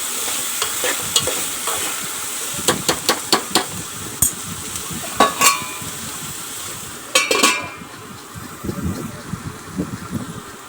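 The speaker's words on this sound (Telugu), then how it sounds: "ఈ ముందుగా కట్ చేసి పెట్టుకున్న బెండకాయ ముక్కలు వేసుకుని కలుపుకోవాలి ఫ్రెండ్స్" Cut okra pieces are stirred into frying onions in hot oil, a steady sizzle with a run of sharp spoon scrapes and clacks against the pan, close and fairly loud.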